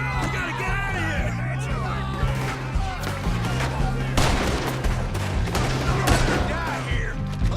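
Dense gunfire fills a Red Dead Redemption 2 shootout in Saint Denis, with rapid overlapping shots and bursts under shouting voices and a steady low musical drone.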